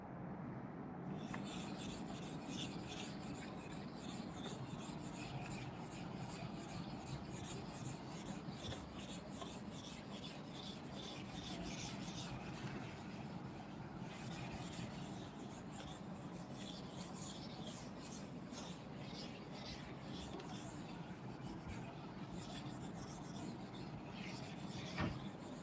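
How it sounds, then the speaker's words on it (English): Steady rhythmic rubbing of a classroom board being wiped clean, continuous close scraping strokes throughout with no talking. "let me rub the board"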